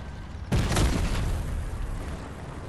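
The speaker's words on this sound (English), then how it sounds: "There's another favorite building of mine getting destroyed." In the video game Fortnite, a building at Tilted Towers is destroyed: a sudden heavy crash and boom after a quiet moment, then a rumbling decay.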